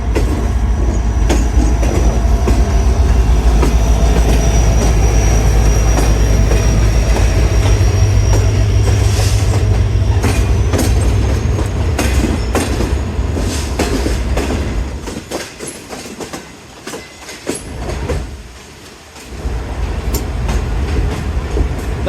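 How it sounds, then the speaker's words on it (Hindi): The Tezgam 8 Down passenger train, hauled by a GMU30 diesel locomotive, passes close by with a heavy engine rumble, then steady clattering wheels and squealing rail noise from the coaches rolling past. "ये तो तेज़गाम है, 8 डाउन। आज इसके साथ GMU30 अनएक्सपेक्टेड लिंक लग गया"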